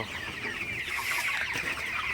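Broiler chickens clucking close by, a continuous busy chorus of overlapping clucks from a flock with no talking.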